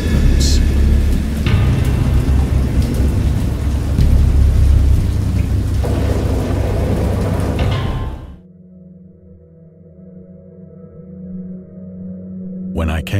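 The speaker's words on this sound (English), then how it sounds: "I know that I heard peals of thunder and other tones which nature utters" A loud thunderstorm with heavy rain and rolling peals of thunder in a cosmic horror visual novel, roaring nonstop for about eight seconds before cutting to a quiet, low drone.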